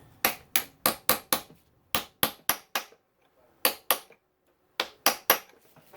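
Sharp metal hammer strikes on a punch and an old worn flathead screwdriver against a 2019-2023 Yamaha YZ250F engine part, about fifteen close, loud blows in quick bursts of two to seven separated by short pauses.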